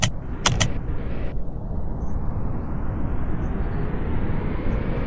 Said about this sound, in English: and the plane sounds like this.